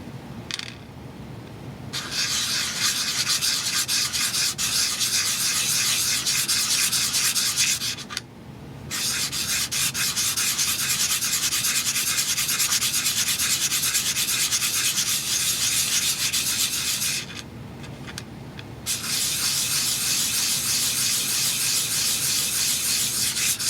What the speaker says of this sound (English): that bezel is a little bit taller than I needed, so I could sand that down quite a bit